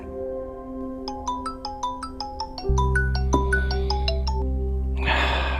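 A mobile phone rings with an incoming call, a bright melodic ringtone of rapid repeating notes that plays on clearly and loudly, then a lower sustained tone joins it before a burst of noise at the end.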